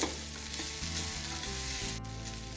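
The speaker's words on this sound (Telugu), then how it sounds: "ఇలా కొంచెం కొబ్బరి ఇలా వేగింది కదండి" Grated coconut roasts in a pan for a coconut laddu, giving a steady dry sizzle with light stirring scrapes close by; music plays underneath throughout.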